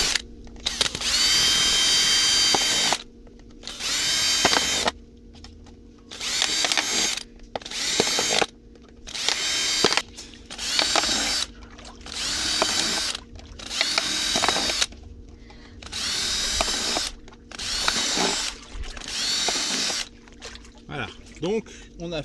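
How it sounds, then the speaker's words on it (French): Small holes drilled with a fine bit into plastic for a homemade chlorine diffuser: nine or so loud power-drill bursts of two to three seconds each, separated by short pauses, close up with no talking. "et on y va, on perce nos petits trous."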